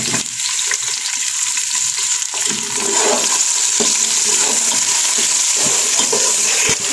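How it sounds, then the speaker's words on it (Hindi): Chopped tomatoes go into frying onions in a pan for fish curry, giving a loud, steady sizzle and hiss with some watery crackle and occasional stirring scrapes throughout. "अब इसमें टमाटर डाल दो"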